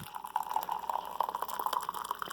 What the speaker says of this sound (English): hot water in the coffee